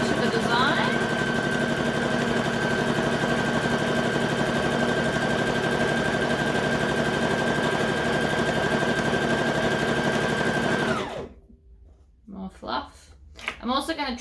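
A sewing machine stitching a fabric dice bag runs in one long steady whirring burst for about eleven seconds, close and loud, then stops, followed by brief quiet handling sounds.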